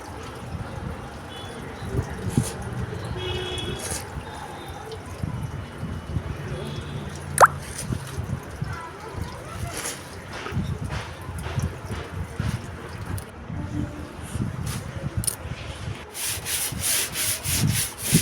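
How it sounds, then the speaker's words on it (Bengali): A broom scrubs a patch of floor with repeated rough, rhythmic back-and-forth rubbing strokes, close by, with a sharp knock partway through and a voice talking over parts of it. "আমি একবার ঝাঁটা দিয়ে ঘষে দিচ্ছি"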